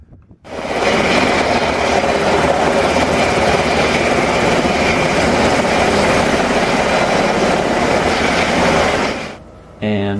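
A loud, continuous roar of rotors and engines from Army Black Hawk and Kiowa helicopters at Wellsboro-Johnston Airport holds steady, then cuts out abruptly near the end, leaving a brief quieter moment.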